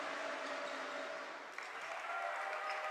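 A visiting Highland student section at a boys' high school basketball game makes steady crowd noise in a gym, with continuous cheering and clapping heard at a moderate distance.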